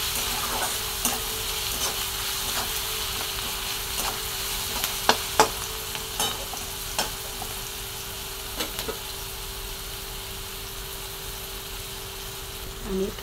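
Onions sauté with salt in a pan, giving a steady close sizzle with scattered sharp clicks and scrapes from stirring, plus a faint constant hum underneath.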